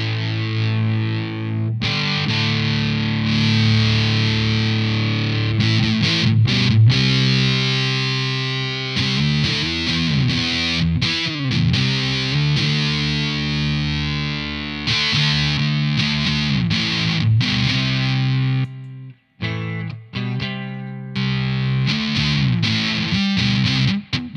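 An electric guitar played through an Orange Fur Coat fuzz pedal gives a loud, thick, saturated fuzz tone, with sustained chords and riffs running continuously and a brief break near the end.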